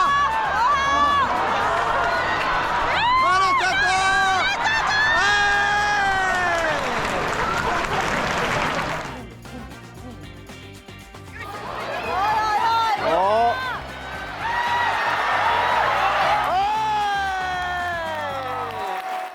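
A packed crowd at a live sumo wrestling tournament in Japan shouts and cheers loudly and continuously as a wrestler enters, easing briefly midway before surging again, with voices calling out throughout.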